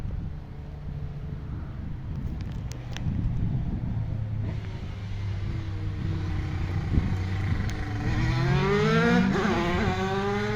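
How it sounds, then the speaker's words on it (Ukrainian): Motorbikes race past at a distance, engines rising and falling in pitch as they rev and pass, with wind buffeting the microphone. "Якісь байкери ганяють."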